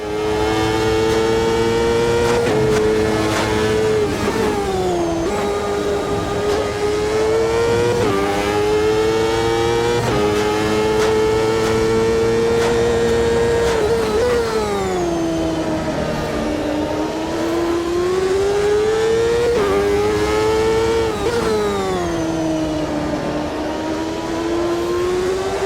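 A CART race car on its final lap in the racing game Automobilista roars loudly and continuously, its engine pitch climbing through the gears and dropping sharply at each shift and braking point, with no talk.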